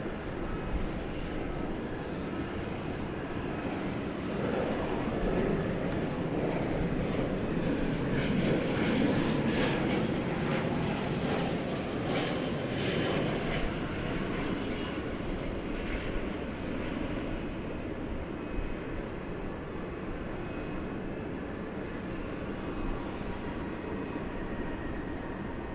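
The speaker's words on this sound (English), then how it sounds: "Here's that Super Cargo Master. Delivering the goods from Tyler," A Cessna Super Cargomaster turboprop cargo plane at DFW airport at night gives a steady, moderately loud engine drone that swells slightly midway and then eases, heard alone without talk.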